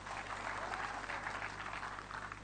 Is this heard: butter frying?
no